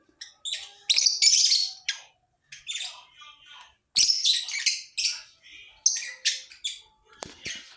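Lovebirds kept by a breeder chirp close by in sharp, high bursts of shrill squawks and tweets. The calls come in irregular clusters separated by short silences, with a faint voice now and then.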